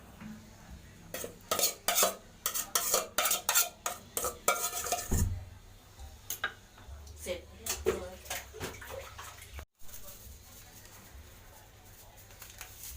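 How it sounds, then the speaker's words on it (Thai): Bamboo shoots, boiled beforehand with yanang leaves, go into a pot of Thai bamboo shoot soup: a run of close clinks, clatters and light splashes from utensils and the pot, then quieter scattered knocks. "แล้วก็ใส่หน่อไม้ อันนี้เราได้ต้มหน่อไม้ไว้แล้ว"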